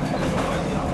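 A passenger train rolls along rails in France's Limousin region, a steady, dense rumble heard from inside the carriage with no voices.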